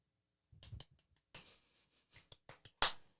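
A quick, irregular run of sharp hand claps or snaps, fairly faint and close, ending with one louder smack; nobody speaks.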